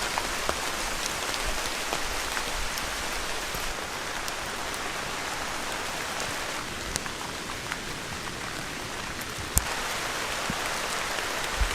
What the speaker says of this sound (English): Crazy the amount of rain that's coming down.